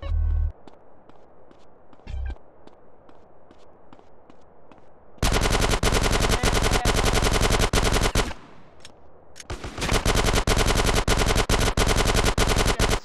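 Rapid automatic gunfire in GTA San Andreas, loud sustained bursts of dense repeated shots, a short gap, then another long burst, preceded by a few quiet thumps.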